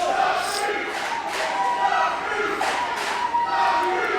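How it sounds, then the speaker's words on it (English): A wrestling crowd at an indie show roars and cheers throughout, a loud, sustained wash of voices with swelling bursts of shouting and no clear talk above it. "They are the coolest team, and this crowd is loving it."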